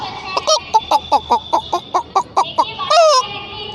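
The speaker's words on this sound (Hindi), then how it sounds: "इसी तरह से मुर्गा है जैसे संकेत देता है खतरे के" A rooster gives a rapid run of sharp, repeated clucking alarm calls, about a dozen evenly spaced, ending in a louder drawn-out squawk, close by.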